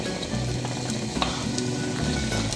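Onions fry in a pan with a dense, even sizzle that holds steady and close for the whole stretch, with no talking.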